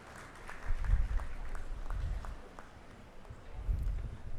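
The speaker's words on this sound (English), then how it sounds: "a big round of applause for all of them" Audience applause for graduates at a university convocation ceremony, a moderate spread of clapping mixed with recurring low thumping bursts, steady for several seconds.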